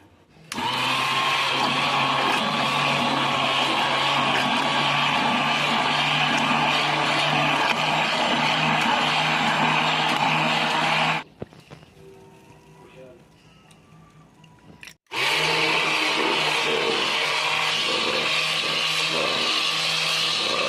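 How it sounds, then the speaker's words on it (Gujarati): A kitchen blender whirs loudly and steadily as it blends sapodilla (chikoo) with milk, cuts out for a few seconds of quiet rattling, then starts again at full power. "પહેલાં જો થોડુંક જ દૂધ નાખીને આપણે બ્લેન્ડર ફેરવશું"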